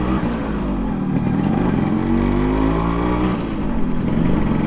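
A Yamaha RXS115 motorcycle engine accelerates steadily and loudly up close, its rising rev note holding for several seconds with no talk over it.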